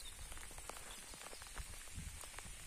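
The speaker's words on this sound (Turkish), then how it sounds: "Şimdi yağmura yakalandık arkadaşlar." Rain falls in the countryside near a village, a faint steady hiss of drops with scattered soft patters close by and no talking.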